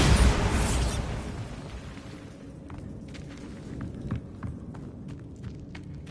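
A Bombarda blasting spell in a video game goes off as a loud, broad burst at the very start, then fades into a low rumble with scattered small pops and crackles afterward.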